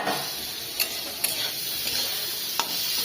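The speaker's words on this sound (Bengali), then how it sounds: "এবার এই চিংড়ি মাছ ভাজে নিচ্ছি" Prawns frying in a pan with onion, lentils and brinjal, a steady close sizzle with a few sharp stirring clicks and scrapes of a spoon against the pan.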